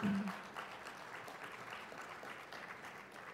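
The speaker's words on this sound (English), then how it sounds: "Let's give them a round of applause." A conference plenary audience applauds in a steady, fairly faint wash of clapping that carries on without a break for a few seconds.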